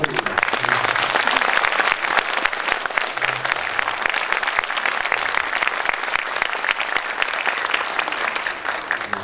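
Sustained applause from a forum audience at an arts hall in Jeonbuk, dense steady clapping filling the room for the whole stretch without letup.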